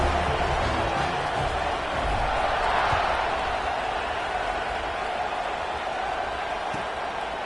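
A stadium crowd at a college football game between CK and UCLA makes a broad, steady roar that holds at an even level throughout, with no individual voices standing out.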